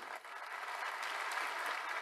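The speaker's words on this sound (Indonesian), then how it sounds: "tepuk tangan lebih keras lagi." Church congregation applauding during a sermon, a dense, steady wash of many hands clapping together at moderate distance, continuous throughout with no speech over it.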